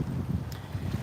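Steady low wind rumble buffeting the microphone beside a river at night, continuous and fairly quiet with gentle gusting surges.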